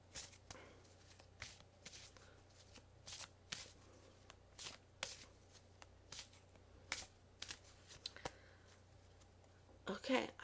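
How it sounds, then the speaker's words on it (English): A deck of Archangel Michael angel cards is shuffled by hand in short, crisp riffling bursts at a steady pace, close and quiet, ending with a brief flurry as the deck is cut. "I'm going to cut the deck"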